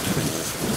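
Rain falls in Hwange National Park as a dense, steady hiss with low rumbling underneath, heard close and continuous for a brief moment without voices.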